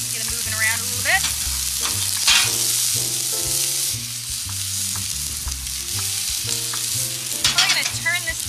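Shallots frying in a hot pan, a steady loud sizzle with repeated scraping and stirring strokes of a utensil against the pan throughout.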